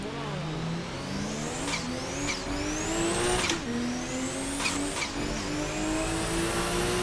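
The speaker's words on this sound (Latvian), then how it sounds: "Viņi varētu driftot ar šitām mašīnām" Cars drift in Grand Theft Auto V, with an engine revving in rising sweeps and several sharp tire screeches between shifts, loud and close, with no talking.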